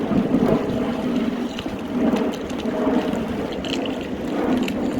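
Storm wind blowing hard at a lakeside, a steady loud rushing roar with gusts swelling and easing throughout, no voices.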